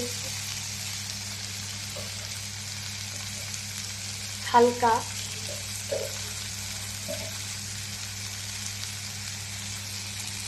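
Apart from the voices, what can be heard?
tengra fish frying in a pan for chochori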